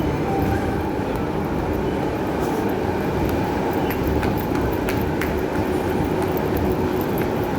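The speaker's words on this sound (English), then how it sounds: "here's a modern train that entered service in 2024" Interior rumble of a modern Perth passenger train that entered service in 2024, a steady low roar with faint rhythmic clicks and brief high squeals, continuous and close throughout.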